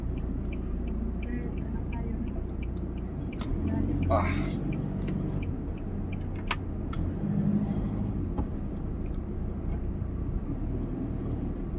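A car pulling out of a busy midday parking lot, its steady engine rumble and tire noise continuous from inside the cabin, with a few faint clicks and a brief higher whine partway through.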